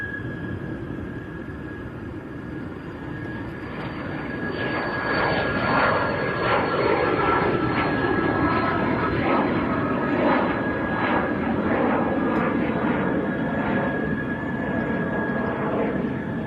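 A Cessna Citation business jet passing at Leeds Bradford Airport, a steady loud engine roar with a high whine that swells and holds as it goes by, no talk.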